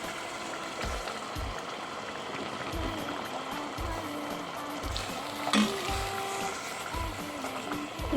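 Broth poured into a pot of tomato sauce, making a steady sizzling, trickling stream. The pour sounds close and holds fairly even, with a few soft clinks and a brief louder splash midway.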